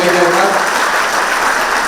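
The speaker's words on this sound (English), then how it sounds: "Big round of applause to everybody." An audience at a live book launch gives a round of applause, dense steady clapping filling the room throughout.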